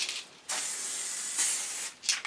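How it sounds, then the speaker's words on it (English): Short bursts of an aerosol spray can being cleared between coats during a vinyl wrap job on a bash plate, loud close hissing blasts separated by brief pauses. "Always clear your can in between coats, because if you don't, then it just bungs up the nozzle"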